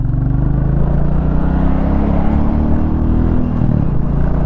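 A 2024 Royal Enfield Bullet 350 pulling away in first gear, a loud, steady low engine thump and rumble with a slight shift in pitch near the end, heard up close and alone.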